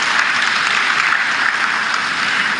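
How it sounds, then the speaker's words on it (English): Loud, dense applause from a summit audience at a climate gathering, continuous even clapping filling the whole stretch without talk. "please let's give them a round of applause."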